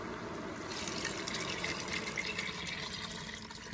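Water pours steadily from a tap into a cooking pot holding hard dried black-eyed peas and greens, a continuous close splashing fill with no talk.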